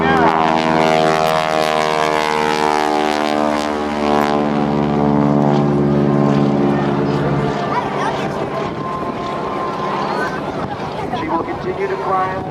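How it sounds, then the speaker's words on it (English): Stunt biplane engine revving at a naval air station airshow, a loud propeller drone with steady harmonic tones that climb and shift, then turn rougher and more broadband, continuous throughout, with an announcer's voice faintly underneath. "Greg will shake up the airplane to make sure the engine is working fine, perfectly, before committing to aerobatics."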